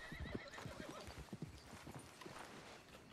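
A horse in the video game Red Dead Redemption 2 whinnies as steady hoofbeats clop along, both fairly quiet under a continuous wash of game ambience.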